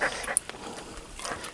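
Out in the desert near a rattlesnake, a dog lets out soft whimpers and faint yips, quiet and intermittent with small pauses between them, and no one speaks.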